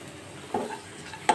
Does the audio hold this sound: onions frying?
yes